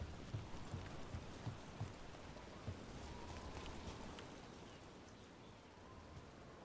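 Soft steady rain falling in the video game Dragon Age: The Veilguard, a faint even patter with a few light thumps early on and no voices.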